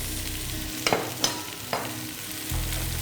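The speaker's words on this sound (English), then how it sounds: "Give that a little stir, and I'm gonna get some caramelization on these vegetables as well." Onions, celery and carrots sizzle in a hot pot for a chuck roast, a steady frying hiss broken by a few sharp scrapes of stirring, close and fairly loud with no talking.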